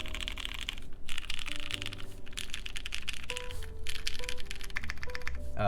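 Steady clacking of a mechanical keyboard with Cherry MX Clear switches on lighter springs being typed on, fast uneven keystrokes close up, with a faint tonal hum in the background.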